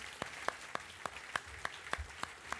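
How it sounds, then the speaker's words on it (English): Faint, sparse clapping from a small audience, a handful of separate claps spaced roughly evenly, distant and quiet. "Let's give him a round of applause."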